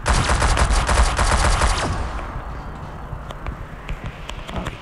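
A video game fires a dense burst of rapid automatic gunfire for about two seconds, then a quieter stretch follows with scattered shots and clicks.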